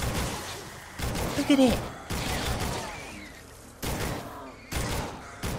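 A Legendary Tiger gun fires in Fortnite, its bursts arriving in several separate loud blocks with short pauses between them, while a player talks over the shooting.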